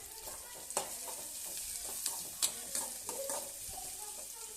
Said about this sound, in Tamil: எல்லாத்தையும் நல்லா வதக்கி விட்டுறலாம் வெங்காயம் வதங்கிட்டு இருக்கு